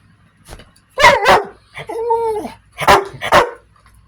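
A pet dog at home barks and yips in short, close bursts, with a whimpering whine in the middle, loud and near against faint background fan hum.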